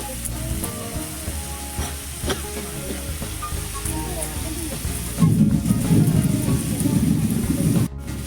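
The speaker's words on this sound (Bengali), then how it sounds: "লঙ্কার গুঁড়ো দিয়ে একটু ভাজা ভাজা করে নেবো আমটা।" Raw mango pieces fry with chili powder in oil for a pickle, giving a steady close sizzle throughout with stirring clatters, and the frying swells louder and denser toward the end before a brief cut.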